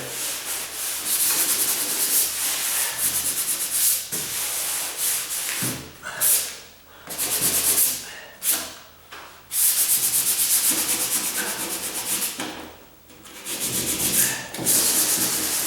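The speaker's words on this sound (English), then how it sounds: "Just my little piece of sandpaper. I just cut off of an old piece of sandpaper that I had on the sand paddle." A small piece of sandpaper rubbed by hand over wood during a condo renovation, loud close rasping strokes in long runs broken by brief pauses.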